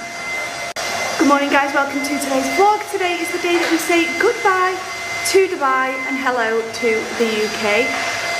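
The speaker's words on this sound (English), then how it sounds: "And if you can hear the hoover" A vacuum cleaner runs upstairs in a house, a steady whooshing drone that sits beneath someone speaking throughout.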